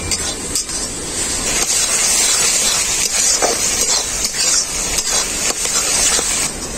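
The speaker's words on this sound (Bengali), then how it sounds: "লঙ্কা আর হলুদটাকে আমি খুব ভালো করে কষিয়ে নেব" Bottle gourd sautéing with chili and turmeric powder, a loud, continuous hiss and sizzle with occasional clinks of a spoon against the pan, no voices.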